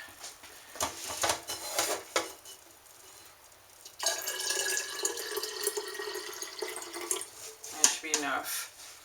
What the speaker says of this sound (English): And I'm going to get my SCOBY hotel jar, pour some into that jar.